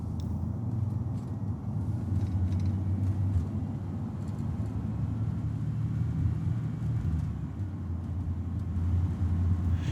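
A truck idles or rolls in a continuous ambience dominated by a massive, deep low-frequency rumble, steady and droning for the full length with only faint higher detail above it.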